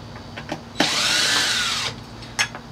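A power driver fitted with a T10 bit whirs for about a second, backing out screws from a scooter cover, with faint clicks and handling noises before and after.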